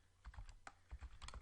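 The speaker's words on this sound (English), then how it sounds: "we'll start typing" Typing on a computer keyboard, a quick irregular run of soft close keystroke clicks, faint and alone with no voices.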